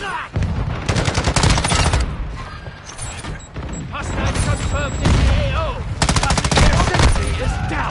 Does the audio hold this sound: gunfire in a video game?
yes